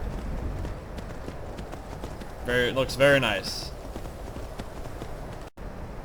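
A horse gallops through a snowy area in Skyrim with the faster vanilla horses mod, producing a steady stream of hoofbeats over constant ambient noise. A person briefly speaks over it partway through.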